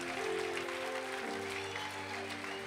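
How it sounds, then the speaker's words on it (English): A church congregation applauds steadily for the children as they come to the front of a service, with broadband clapping throughout while sustained music tones play underneath. "Keep clapping, keep clapping, keep clapping for them."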